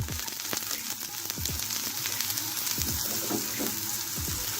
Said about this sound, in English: So right now we're going to add some garlic. Don't know, cook until translucent like how we want it.